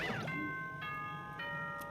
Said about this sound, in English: That chime just now.